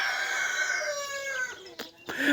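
A rooster crows in one long, drawn-out call that fades out, then short bird sounds follow. It is fairly close and clear, with no talking.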